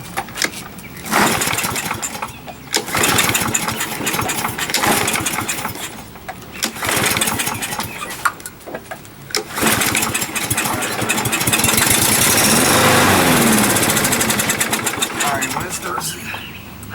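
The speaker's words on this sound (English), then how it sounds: "Pull it again." Someone repeatedly pull-starts a push lawnmower that will not start. Close, loud engine churning and sputtering rises and falls in uneven bursts, and people talk over it.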